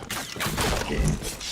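Dense rapid gunfire in the Point Blank shooter game, a continuous fusillade of overlapping shots filling the whole moment, loud and close.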